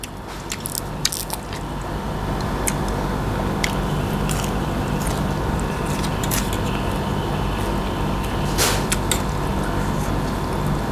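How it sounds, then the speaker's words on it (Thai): River snails being eaten at close range: continuous loud slurping, chewing and crunching, with sharp clicks scattered throughout and no speech. "กินหัวหอยน้ำ"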